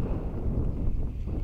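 Wind blowing outdoors beside a drying pond during lure fishing, a steady low rumble buffeting the microphone continuously with no voices present.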